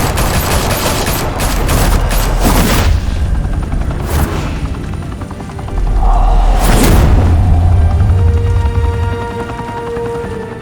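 Loud, rapid gunfire in a Batman Telltale Series shootout at a high-rise mafia club fills the scene, with dense bursts of automatic shots, heavy low booms and rumbling impacts, and a brief lull before a second heavy barrage.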